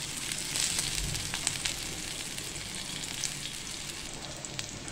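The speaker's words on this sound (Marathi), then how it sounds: "अशा पद्धतीने आपली मिरची पण भाजून झाली।" Chopped green chilies roast in hot oil in a pan, giving a steady, dense hiss of frying with scattered small pops and crackles, close and continuous without any speech.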